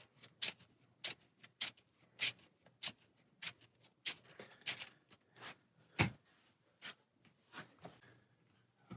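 A deck of cards for a Marvel superhero card game is shuffled nearby, with a quick series of crisp riffles and snaps in irregular bursts, quiet and without talk.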